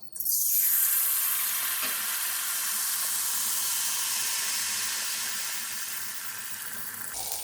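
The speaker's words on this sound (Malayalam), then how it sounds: "ഇനി നമുക്ക് നമ്മുടെ ബാറ്റർ ഒഴിച്ചു കൊടുക്കാം." Neyyappam batter poured into hot oil in a cheenachatti, bursting into a loud, bright sizzle that settles into a steady frying hiss, ending with a small clatter.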